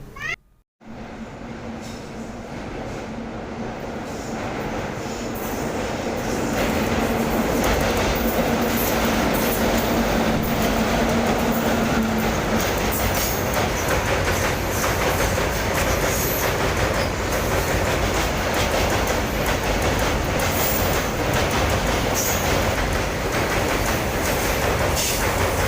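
A train passes close by on a railway line, its loud, steady rumble and rattle rising over the first few seconds and then holding, with no voices.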